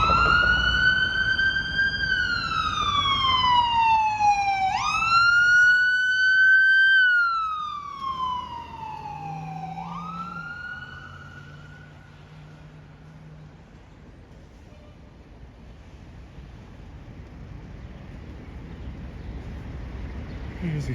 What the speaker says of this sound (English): Ambulance making their way over.